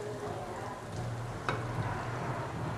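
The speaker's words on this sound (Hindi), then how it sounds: "ये देखें, प्याज हमारा ब्राउन हो रहा है" Sliced onions browning in oil in a frying pan give a soft, steady sizzle at low volume, with a brief stir or clink midway and no talking.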